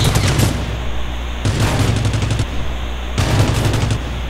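Weapon fire in the Rules of Survival video game: three loud automatic bursts, each about a second long, separated by short gaps, with no talk.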